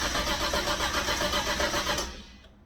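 A car fitted with a new McLeod RXT clutch and MT82 transmission starts up for the first time on E85 fuel. The engine runs loud and rough with a pulsing roar, then dies away near the end.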